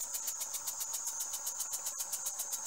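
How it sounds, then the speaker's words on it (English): Antique English model steam engine converted to run on propane, chuffing in a fast, steady rhythm with a constant hiss, close and even. "With the engine running."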